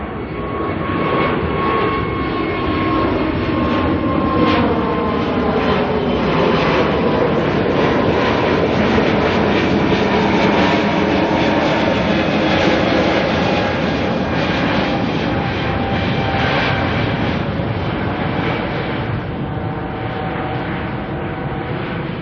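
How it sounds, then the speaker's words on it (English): An Air New Zealand Airbus A320neo, flight NZ109 to Sydney, departs Auckland with a loud, sustained roar of jet engines that swells and holds steady throughout, with no talking. "NZ109 here, 320 Neo,"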